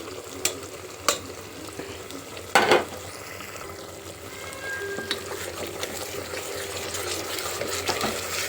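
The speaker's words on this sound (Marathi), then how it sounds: "आता आपण खडा मसाला पेस्ट, कांदा पेस्ट वगैरे आपण याच्यात सोडणार आहोत" Whole spice paste and onion paste frying in a pot after ginger and garlic for mutton bhaji, with a few sharp splashes and steady sizzling stirring sounds, close and moderately loud, no talk.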